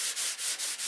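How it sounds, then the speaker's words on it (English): Airplane finish, brushed on and dry enough to powder, being hand-sanded with 320-grit paper to remove brush marks: four close, steady rasping strokes in an even back-and-forth rhythm, heard alone. "We're sanding with 320 just to get the brush marks out of it."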